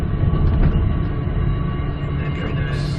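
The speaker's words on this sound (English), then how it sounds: "There's a train coming in." A train on the Brisbane airport line rumbles past nearby with a continuous heavy roar and faint rail clatter, loud and steady throughout.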